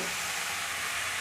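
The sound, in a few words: chopped bottle gourd added to frying spices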